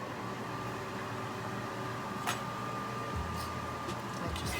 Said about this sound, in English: I'm going to turn my fan on low